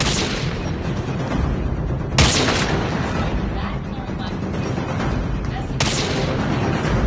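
Gunfire from a sniper: a continuous roar of shots or blasts with two sharp, loud cracks standing out partway through, with voices shouting faintly underneath.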